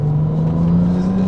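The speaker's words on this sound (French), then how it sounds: "On entend les turbos qui sifflent, parce que forcément on a beaucoup de pression de turbo hein" Ferrari 296 GTB turbocharged engine holding a steady, loud drone with a constant tonal whine, close and uninterrupted, with no voices over it.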